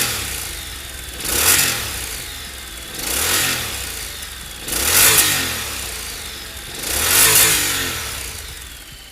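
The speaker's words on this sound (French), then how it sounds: "Le pot d'échappement a été modifié afin d'obtenir une sonorité plus profonde." A 2014 Honda Integra 750 motorcycle engine revs four times in a steady rhythm through a modified exhaust, each deep, throaty surge rising and falling back, heard close with no talking.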